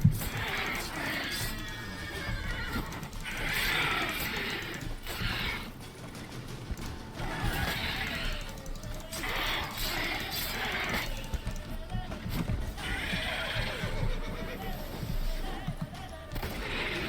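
Roach the horse in The Witcher 3 video game neighing and whinnying in repeated drawn-out calls with occasional hoof clops, over a steady game background, with a voice speaking at times.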